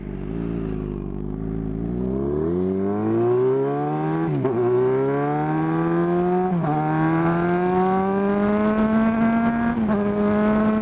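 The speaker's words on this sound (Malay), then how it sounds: "Aku pulas throttle, dia terus pergi" A Yamaha XJ6 motorcycle engine revved hard with the throttle, its smooth tone climbing steadily in pitch across several seconds with brief dips between pulls, loud and close.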